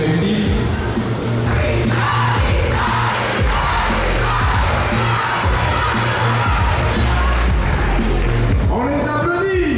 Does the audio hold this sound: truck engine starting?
no